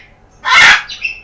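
Grey parrots and other birds at a parrot boarding home give a single loud, harsh squawk close by in the late morning, followed by fainter chirps.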